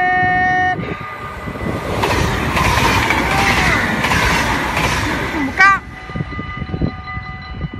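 A train passes close by in the Dutch town of Echt, its loud rumbling rush filling most of the clip before a short horn blast near the end, with voices nearby.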